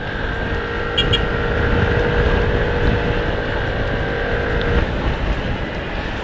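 A steady engine drone with rushing wind noise from an FKM MTX 150 Hybrid scooter cruising at constant speed, loud and continuous throughout.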